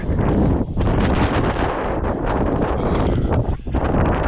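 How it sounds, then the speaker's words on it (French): Strong wind buffets the microphone in loud, continuous gusts, roaring and rumbling without a break for the whole stretch. "Il y a un vent horrible. Ça nous pousse."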